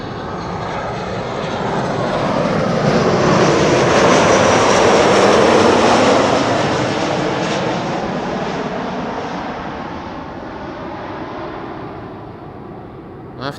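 A KLM Boeing 737-700 jet arriving from Copenhagen lands at Amsterdam Schiphol Airport, its loud broadband engine roar swelling as it passes close by, then slowly fading into a steady distant rumble.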